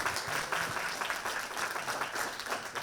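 An audience at a cybersecurity panel event applauds a panelist being introduced, with a soft, even wash of many hands clapping at a distance and no talk over it.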